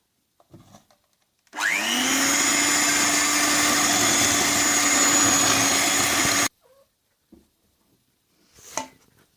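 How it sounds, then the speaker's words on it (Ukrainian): Electric hand mixer whipping soft butter with sugar, a loud steady motor whine starting abruptly and running about five seconds before cutting off, with quiet handling knocks before and after. "Нам треба збити його міксером."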